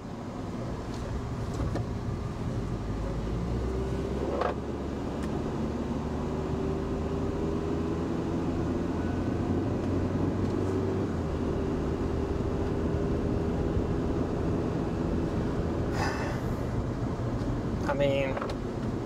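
Honda Element engine idling and running steadily after a stalling repair, a low continuous hum from inside the vehicle with occasional small clicks.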